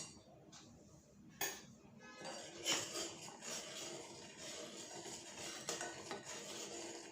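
A spoon stirs dry fruit powder into a boiling pot of sweet milk, with soft scraping and a few clinks against the metal pan, faint and close, under light background noise.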